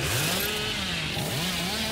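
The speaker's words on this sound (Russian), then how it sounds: "Завожу пилу, чтобы поехать на самый дальний генератор." Billy's chainsaw in Dead by Daylight revs loudly and steadily, a close, continuous buzzing roar with rising and falling pitch sweeps and no voices.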